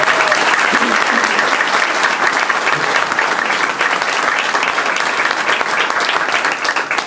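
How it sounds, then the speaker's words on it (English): A long, steady round of applause from the audience at a high school celebration marking the completion of referendum-funded building work, dense clapping holding at an even, loud level throughout. "this is a round of applause"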